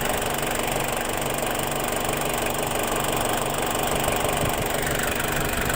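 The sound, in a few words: Ford Ranger TDi diesel engine starting and idling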